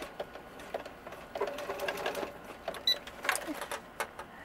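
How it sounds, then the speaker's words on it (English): Sewing machine stitching a seam on a small doll-sized jacket, heard as short uneven bursts of needle chatter with pauses between runs, close and fairly quiet, with no talk. "Go ahead and sew"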